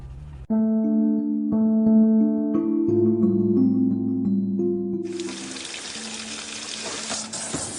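A drinking water tap in a fracking gas area, which catches on fire, starts a loud steady rushing gush partway through. Layered sustained musical tones come before it and fade under it.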